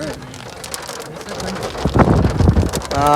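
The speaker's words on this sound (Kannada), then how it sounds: "ಮಳಿ ಎಂಟ್ರ ಐತ್ ನೋಡ್ರಿ" Steady rain patters on a surface in Dandeli and grows heavier toward the end, with a voice briefly heard in the background.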